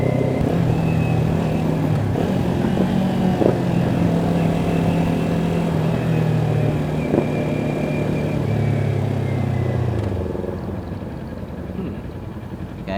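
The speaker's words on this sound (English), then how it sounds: "Because I'm blipping the throttle, only blipping slightly." A Kawasaki Ninja 400 fitted with an Akrapovic slip-on exhaust is ridden while downshifting with light throttle blips. The engine drone steps through several pitch changes under steady wind rush and fades slightly near the end.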